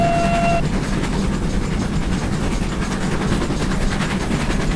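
A GWR 47XX steam locomotive in a video game gives a short, lower-pitched whistle blast, loud and close, that cuts off quickly and leaves a steady rolling rumble of the engine and wheels.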